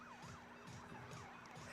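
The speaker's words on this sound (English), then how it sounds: "You hear the ambulance sounds in the background." An ambulance siren wails in a repeating rising-and-falling pattern, faint and distant beneath a constant background of noise during a live basketball broadcast.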